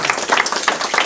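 A crowd at a county town hall meeting on menstrual hygiene in Kisii claps steadily, a dense, continuous patter of many hands close around.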